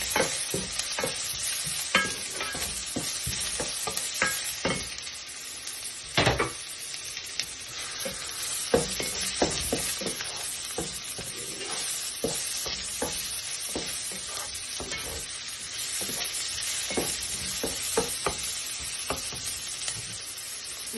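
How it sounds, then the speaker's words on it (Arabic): Garlic sizzling in a frying pan for chicken fajitas, a steady loud crackle with frequent close scraping and clinking of a utensil stirring against the pan. "وبعدين هنضيف الثوم كمان بالشكل ده."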